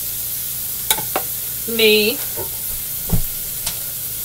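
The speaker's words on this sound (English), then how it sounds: "I'm going to take these shrimps and drop it in the pan over here" Shrimp dropped into a hot pan for Cajun seafood pasta, a few clattering knocks and a brief louder hiss of frying, with a short tonal squeak and a voice speaking briefly.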